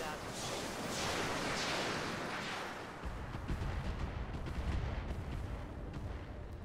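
Weapon fire from mechs in the Roguetech mod of the BattleTech video game: dense, rumbling volleys of missile launches and impacts, loud and sustained, building heavier in the second half.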